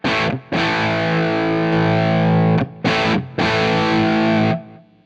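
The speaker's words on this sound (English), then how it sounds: "Now, if you want more, you can definitely add boost. It also adds volume, but I'm hearing more saturation." A Gizmo Audio SB pedal with its boost engaged drives a bass into saturated distortion: loud, gritty sustained notes broken by a few short gaps and ending in a clean cutoff, with no voices.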